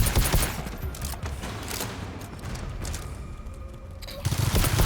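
A sentry turret firing in the video game GTFO, a dense, continuous burst of rapid gunfire that stays loud and close for several seconds with heavy low-end booms at the start and finish.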